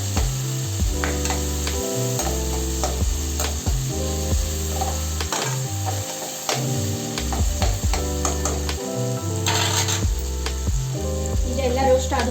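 Khichdi ingredients roast in a pan with a steady, continuous sizzle under prominent background music, with occasional scraping stirs.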